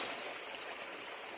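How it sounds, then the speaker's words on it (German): Waterfall splashing at a bathing spot on a rural property, a steady faint rushing and plashing of water with no speech. "Weil da war das Geplätscher vom Wasserfall so laut."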